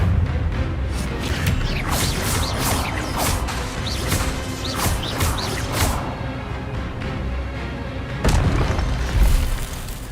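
A spell is cast in the Hogwarts Legacy video game, with a dense wash of magical whooshes and booming impacts running throughout and a heavier crash toward the end.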